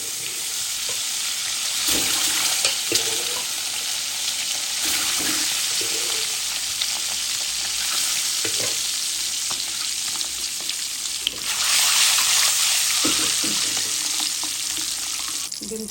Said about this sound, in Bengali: ডিমটা ভাজা হয়ে গেছে